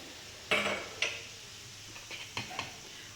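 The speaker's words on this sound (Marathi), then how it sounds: "आता हे गरम आहे तोपर्यंतच आपण व्यवस्थित मिक्स करून घेऊया चमच्याने मिक्स करूया" A spoon stirring hot ghee into semolina in a pot, giving a few sharp close metallic clinks and scrapes separated by short pauses, quiet overall with no talk.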